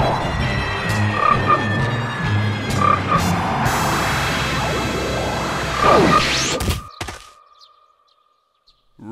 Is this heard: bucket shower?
no